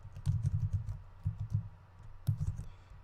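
Keys clatter on a computer keyboard in quick, uneven bursts of typing, close and quiet, with no speech.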